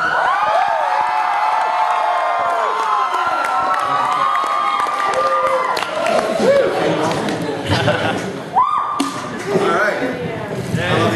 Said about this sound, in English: Come on, give it a real cheer now.